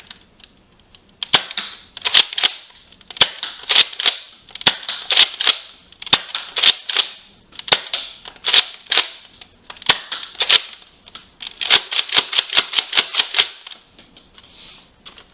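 A Nerf Modulus Tri-Strike blaster fires foam darts in single shots and then slam fire, giving sharp, loud, close snaps and clicks in uneven bursts with priming clatter between shots.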